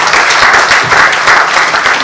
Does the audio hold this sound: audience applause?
yes